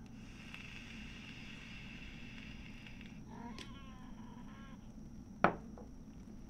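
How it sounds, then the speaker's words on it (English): During play of the Tex Murphy: Overseer game, a cat gives a short, fairly quiet meow, followed by a sharper yowl, over a steady background hum. "What was that meow for?"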